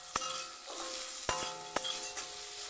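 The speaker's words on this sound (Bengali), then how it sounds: "এটাকে হালকা একটু ফ্রাই করে নেবো।" Carrots fry in ghee in a pan with a soft, steady sizzle, broken by a few sharp clicks of a utensil stirring against the pan.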